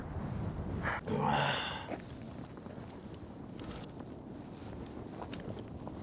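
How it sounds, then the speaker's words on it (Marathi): Strong wind roars and buffets a microphone on a high mountain pass during a bicycle ride, a steady close rush with a louder gust early on and no speech. "हवा इतकी जोरदार चालते का नाही, लय जोरदार हवा चालते"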